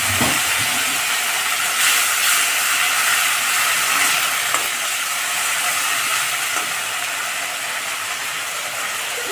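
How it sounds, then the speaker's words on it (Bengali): Ginger-garlic paste sizzles in hot oil over browned onions for a Bengali village-style prawn and potato curry, giving a loud, continuous, close hiss that runs unbroken throughout. "আদা রসুনটা ভালো করে ভেজে নেব।"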